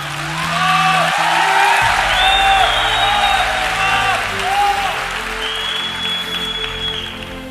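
Steady applause and crowd noise from about 6000 people filling Thyagaraj Stadium, loud and continuous with cheers and whoops rising over the clapping and amplified music or tones mixed in.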